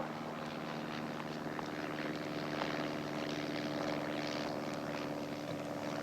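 A propeller airplane engine drones steadily and evenly for the whole stretch, a dense mid-level hum with a faint rhythmic beat from the blades. It sounds close and continuous, with no voices.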